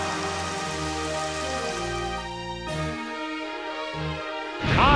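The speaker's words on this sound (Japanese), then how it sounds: "あーっと大雨になりました。" Heavy rain effect in the Pokémon Stadium Gold and Silver video game, a constant hissing downpour running under melodic game music, steady and fairly loud throughout.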